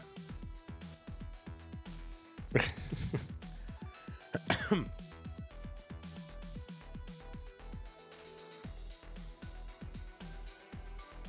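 Two sharp coughs a couple of seconds apart, heard over a steady rhythmic musical backdrop during a Classic Tetris tournament broadcast.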